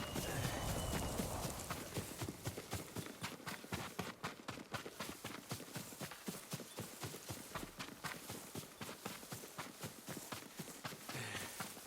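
Horse hooves galloping in the video game Ghost of Tsushima, a rapid, steady run of clip-clop beats that keeps going throughout, close and prominent, with no voices.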